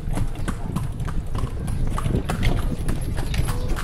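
Horse hooves clip-clop steadily and close up as the animal pulls a kalesa carriage along the streets of Vigan City, a continuous rhythmic clatter over street and wheel noise.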